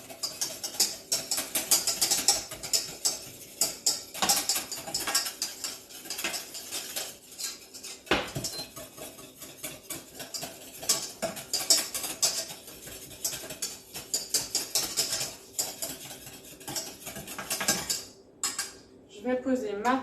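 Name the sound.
mixing financier batter in a bowl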